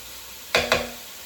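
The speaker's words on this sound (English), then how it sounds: "we've got all our bacon in there" Bacon in a pan for a steak and fried cabbage meal gives two quick, loud bursts of sizzling close up, with quiet background before and after.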